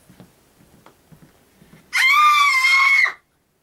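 A person lets out a single long, loud, shrill scream at a camp, lasting about a second, after a few faint scattered sounds.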